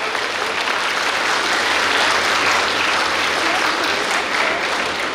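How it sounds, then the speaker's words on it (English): A hall full of graduates claps steadily at a medical college graduation ceremony, a dense, even wash of applause that holds at full strength for several seconds. "one round of applause to yourself, the peers"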